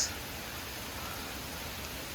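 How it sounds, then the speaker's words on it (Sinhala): Steady rain patters down across open highland grassland while hiking at Horton Plains in Sri Lanka, a soft, even hiss that holds at one level for a couple of seconds with no talk over it. "වහිනවා ගයිස්"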